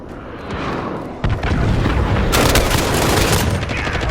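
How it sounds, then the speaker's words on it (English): Cruise missile strikes in the Call of Duty Modern Warfare video game set off a sudden loud blast. A dense, rumbling barrage of booms and crackling explosions follows without a break. "Allied cruise missile launched."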